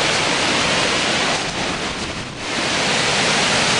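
A flooded brook rushing through open sluice gates, a loud, dense roar of churning water that dips briefly in the middle before surging back, with no talking.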